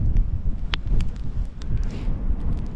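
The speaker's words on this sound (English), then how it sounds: "the wind just won't stop." Cold wind buffeting a microphone on an Outer Hebrides beach, a steady low roar and gusty rumble with a few faint ticks on top, no talking.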